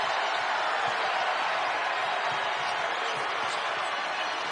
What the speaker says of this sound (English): Crowd has been live here from the Forum, especially the second half